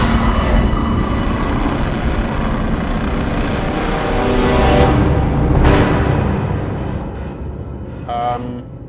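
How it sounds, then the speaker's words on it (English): Sound design samples from the Piano from Hell library play as a dense, roaring rumble like a passing train, with scraping metallic swells near the end and a short high whine, loud and continuous with no talking. "Let's just play a few sounds that I've used here from that Piano from Hell."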